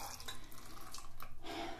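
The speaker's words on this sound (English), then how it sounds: "Step 1 is pouring our water part into our oil part." Liquid water phase pours into the oil phase while mixing a homemade lemon chiffon body and hand lotion, a soft, close trickle and splash with light drips, faint and continuous.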